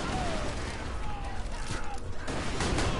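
Explosions and bursts of gunfire from a chaotic Borderlands 2 co-op battle, several sharp booms and pops scattered over a dense background roar.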